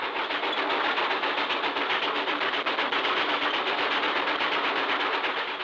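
A tiny narrow-gauge railway train runs through the Welsh mountains, its steady rhythmic clatter and engine noise continuous and fairly close for several seconds, with no voices.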